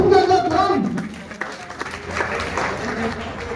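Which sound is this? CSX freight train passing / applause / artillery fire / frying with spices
applause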